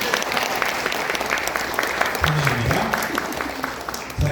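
An audience at an office opening ceremony gives steady, continuous applause for several seconds, while someone speaks over a loudspeaker on top of the clapping.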